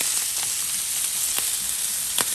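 Full rack of barbecue pork ribs searing on an outdoor BlackStone flat top grill, a steady close sizzle with a few brief spatters and pops breaking through.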